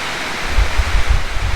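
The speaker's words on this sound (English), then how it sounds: "it's absolutely pouring down. It's been pouring down all day." Heavy rain pours steadily on a building site in Thailand during a garage and workshop build, a dense continuous hiss with low rumbling gusts, loud and close, no voices.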